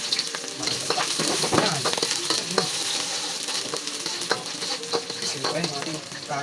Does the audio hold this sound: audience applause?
no